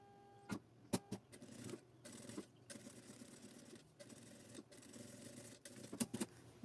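A domestic sewing machine stitches a seam on a fabric backpack panel in short bursts, its motor whirring in uneven runs separated by brief pauses and clicks, fairly quiet and close.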